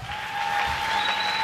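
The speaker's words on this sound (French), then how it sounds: "acclamons très fort" A church congregation claps together during a sermon, a dense steady wash of applause that builds slightly and carries on without a break.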